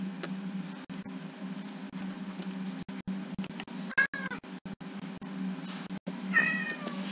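A house cat meows several times in short, fairly close calls over a quiet background hum, with a few scratchy clicks and no talking.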